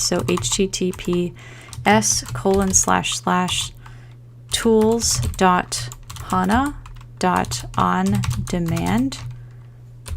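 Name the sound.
typing a URL on a computer keyboard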